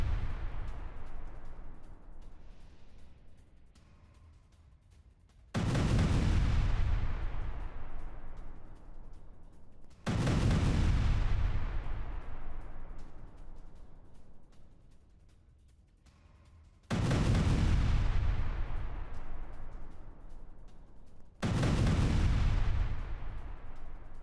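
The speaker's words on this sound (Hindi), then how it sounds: "भारी धमाकों में तबाह हिजबुल्लाह के ठिकाने।" Heavy explosions from Israeli strikes in south Lebanon, four massive booms landing roughly every five seconds, each a loud low blast that rumbles and slowly fades before the next, with no talking.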